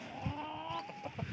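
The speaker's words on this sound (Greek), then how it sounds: "πρώτος κόκορας είναι αυτός εδώ" A two-year-old fighting rooster kept among backyard chickens gives soft, low clucks in short irregular bursts, close by, with a steady faint hum underneath and no talking.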